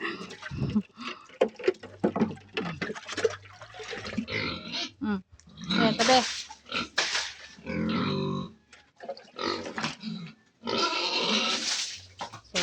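A hungry pig in a backyard farm grunts in rapid, uneven bursts, close and moderately loud, mixed with other farm animal noises and a little background talk.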